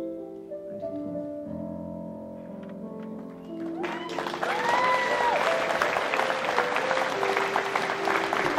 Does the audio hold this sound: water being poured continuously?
no